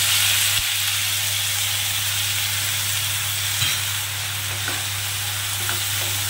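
Tomato, ginger and green chilli paste dropped into hot oil in a pan, a steady close hiss of frying with a low constant hum beneath and a few faint spoon knocks.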